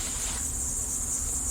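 A honeybee swarm settled in a hive box with combs, giving a steady low hum under a constant high insect chirr, close and continuous.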